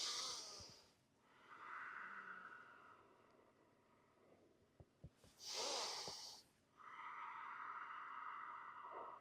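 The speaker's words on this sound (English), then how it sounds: "you can hear that ujjayi breath that I use as well" Loud ujjayi breathing during a kung fu lesson, with long hissing inhales and exhales. Two broad rushes of breath alternate with quieter stretches, and a few short sharp sounds fall in between.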